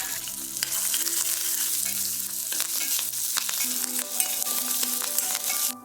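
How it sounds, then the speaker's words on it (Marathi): Green chilli, garlic, fresh grated coconut, curry leaves and coriander sauté in a hot pan, giving a steady close sizzle with scraping stirs throughout, soft tonal music running underneath. "आता हे छान असं परतून घेऊयात"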